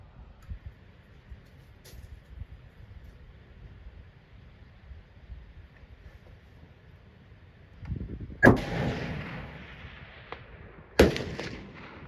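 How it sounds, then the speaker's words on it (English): Rifle fired at a 500-yard target through a Vortex Viper HS 4-16x50 scope: after quiet outdoor background, one sharp loud crack rings out, and a second sharp report follows a few seconds later. "We're going to take a shot at 500 yards"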